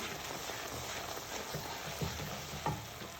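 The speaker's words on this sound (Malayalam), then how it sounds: "ഒരു കപ്പ് പൊടി ഇട്ട് കൊടുക്കുക ഈ കൈ ഇളക്കാതെ നന്നായിട്ട് മിക്സ് ചെയ്യാം" Rice flour being stirred into boiling water in a pot, a quiet continuous bubbling and scraping with soft irregular knocks of the spoon, low and steady with no talking.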